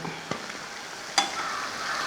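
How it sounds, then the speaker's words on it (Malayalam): Food frying in oil for making laddu, a soft steady sizzle with a couple of sharp clicks of a utensil against the pan, no voices. "നമ്മളിത് മൊത്തം വറുത്തെടുത്തിട്ടുണ്ട്"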